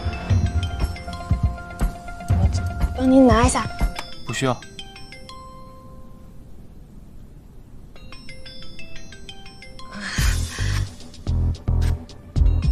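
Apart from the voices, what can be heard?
mobile phone ringing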